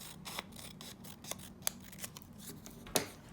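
Scissors snip while trimming microlocs, a series of close, crisp, quiet cuts at irregular intervals, with one sharper snip near the end.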